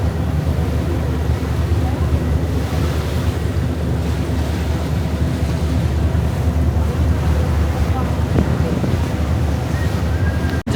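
A cruise boat carrying cars sails on the water near Lucerne, Switzerland, with a constant loud roar of wind buffeting the microphone over the rush of waves and a low engine drone, without pause.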